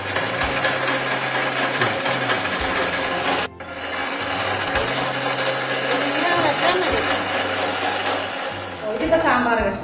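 A vegetable cutting machine slices vegetables for avial and sambar, including drumstick, giving a loud, continuous grinding, rasping whir with a brief pause midway and a rhythmic mechanical thump beneath.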